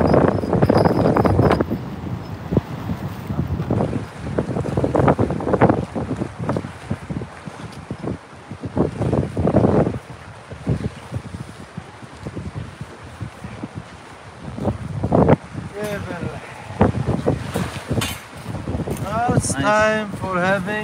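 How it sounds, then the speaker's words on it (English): Gusty wind buffets a microphone in rumbling bursts, rising and falling, with people talking near the end. "I know, but it's only windy"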